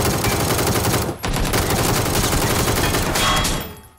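Rapid automatic gunfire in an Xbox shooter, a loud, continuous stream of shots with a brief break near the start, then tapering off at the end.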